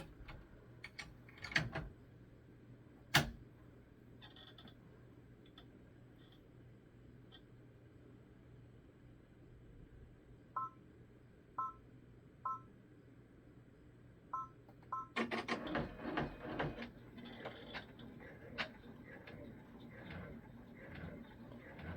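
An embroidery machine stitches a tack-down line over felt for a snowman ornament applique. A few short beeps come first, then rapid, steady stitching runs through the last several seconds, close by with no talk.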